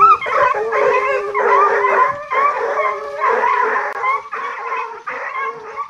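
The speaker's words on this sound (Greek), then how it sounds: "Τι κάνουν αυτά τα σκυλιά ρε παιδιά." A pack of French Ariégeois hunting dogs bays and howls nearby, with several voices overlapping in continuous, loud, wavering cries and yips.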